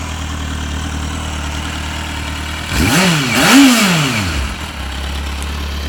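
A Kawasaki Z750 four-cylinder motorcycle engine idles steadily, briefly revs up twice in quick succession, then settles back to a smooth, even idle.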